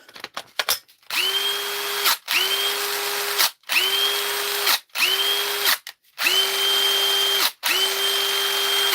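Repaired DeWalt cordless drill motor whirring in several steady bursts, each starting and stopping cleanly with a high whine, loud and close, no talk.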